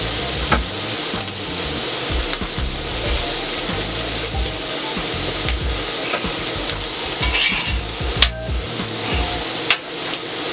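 Onions and carrots are tossed and scraped across a hot steel griddle with a metal spatula, producing irregular rubbing and clattering strokes over a soft frying hiss, with a few sharper knocks toward the end.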